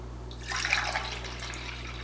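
Reserved kombucha poured from a homebrew batch into a container, a soft liquid splash that swells around the middle and then settles into a steady trickle over a low background hum.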